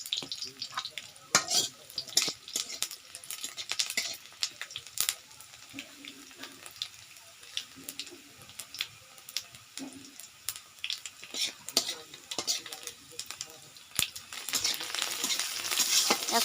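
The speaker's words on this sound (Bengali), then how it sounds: "ওই তেলের মধ্যে 5 ফোড়নটা দিয়ে দিচ্ছি।" Panch phoron spices and lightly fried onions crackle in hot oil, with scattered sharp pops and spatters over a quiet sizzle, close by and irregular throughout.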